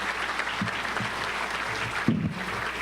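A luncheon crowd at a Little Rock touchdown club applauding guest speaker Rex Nelson, steady even clapping from many hands, close and sustained, with no talk over it.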